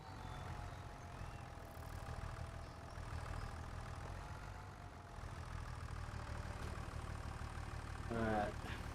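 A tractor engine in Farming Simulator 25 hums at a steady idle under continuous low rumble, with a brief rising mechanical whine near the end.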